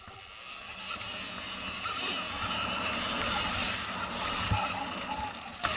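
A Surron Ultra Bee electric dirt bike rides in drive mode on an enduro spot, giving a steady rising motor whine mixed with rushing wind and tyre noise. A brief thump comes near the end, and no one speaks.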